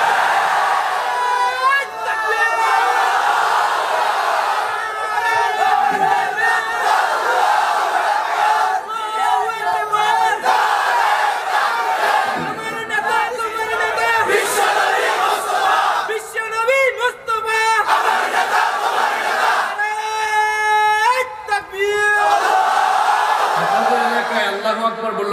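Large crowd at an outdoor Bangladeshi waz mahfil religious gathering chanting the Allahu Akbar slogan in loud, repeated rhythmic waves, voices massed together and sustained throughout with brief dips between shouts.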